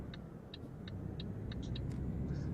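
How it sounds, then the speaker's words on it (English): Mercedes-Benz Actros truck engine in Euro Truck Simulator 2 giving a low, rising rumble that builds steadily, punctuated by a regular series of faint clicking ticks, fairly quiet overall. "This engine likes to be revved, I find, which is very useful when you just want to give it full power."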